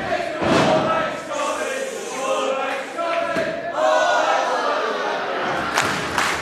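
A wrestling crowd at a UKPW championship match chanting in rhythmic waves, loud and sustained across the hall, with sharp shouts and thuds cutting through.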